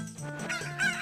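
A cucco from The Legend of Zelda: Ocarina of Time Master Quest gives a short burst of clucking and squawking, clear and close in the game's audio.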